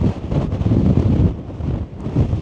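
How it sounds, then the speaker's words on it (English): Strong wind blowing at Africa's southernmost point, buffeting the microphone with a loud, continuous low roar that surges and eases, with no voices. "It's really windy."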